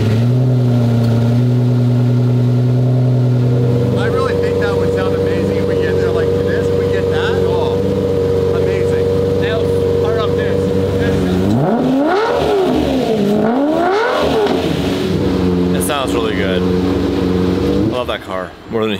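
A supercar engine, a Bugatti Chiron Pur Sport, holds a loud steady idle drone, then revs up and down in rising and falling sweeps before settling back to a constant roar.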